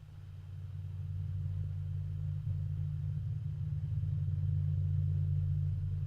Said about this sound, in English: Dark thoughts drone.